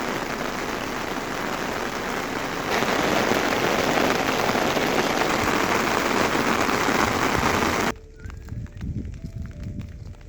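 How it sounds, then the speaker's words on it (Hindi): Rain pours steadily in a forest, a dense broadband hiss that swells louder partway through, then drops off abruptly near the end, leaving lighter scattered drips. "बारिश ने फिर से दस्तक दी"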